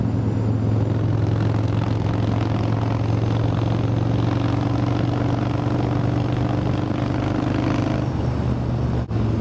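A Harley-Davidson Softail Deuce motorcycle rumbles steadily while being ridden, its low engine drone constant and loud alongside road and wind noise, with no voices.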